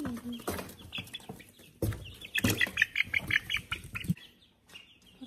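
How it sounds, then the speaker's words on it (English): Several baby chicks cluck and squawk in short, irregular bursts nearby, with rustling and movement between calls before things quiet down. "I'm gonna see if I can record this while I'm chasing down the chickens."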